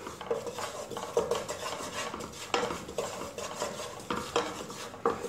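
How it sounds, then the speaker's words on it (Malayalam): A butter and flour roux for white sauce is stirred in a pan over a low flame, making continuous close scraping and swishing strokes with occasional utensil clinks against the metal, no voices. "ഒരു മിനിറ്റ് നേരം ഇതൊന്ന് വഴച്ചെടുക്കുക."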